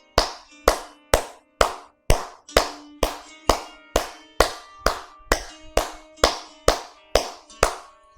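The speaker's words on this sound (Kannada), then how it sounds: "ಚಪ್ಪಾಳೆ ತಟ್ಟೋದಂದ್ರೆ ಆ ಥರ ಇರಬೇಕು" Hard, deliberate hand claps done as an exercise, about seventeen loud, close, evenly spaced slaps at a steady rhythm of roughly two per second, each ringing briefly.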